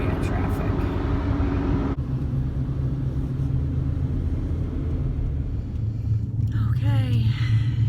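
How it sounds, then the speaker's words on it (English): An RV rolls through Chicago-area traffic with a low, steady road rumble and engine drone inside the cabin, while people talk over it. "So we're going through Chicago area traffic."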